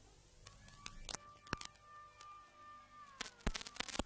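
A faint, steady siren at a public primary school marks the start of a certificate exam on a weekday morning. It sounds distant and thin, with scattered clicks and knocks nearby.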